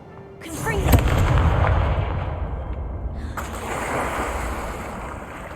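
Casting the Confringo explosive fire spell in Hogwarts Legacy gives a booming blast followed by a rushing roar that fades, then a second whooshing surge, loud and alone.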